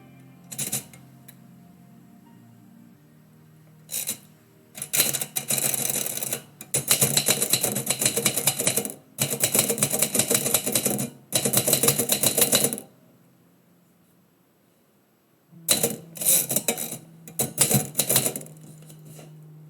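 A typewriter clacking out lines of poetry, with rapid bursts of keystrokes in several long runs separated by pauses, close and loud, with a low hum under the quieter gaps.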